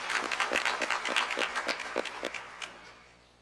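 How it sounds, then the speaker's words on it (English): Scattered applause at a Dothan City Schools board meeting, a small group clapping in distinct quick claps that thin out and fade away within a few seconds. "let's just give him a well-deserved round of applause"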